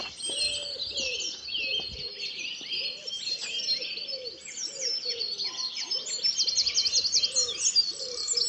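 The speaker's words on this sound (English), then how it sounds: "What lovely wren in here." Small wrens singing nearby with bright, rapid trills and chirps, joined by other birds and a low cooing dove in a busy spot full of birdsong.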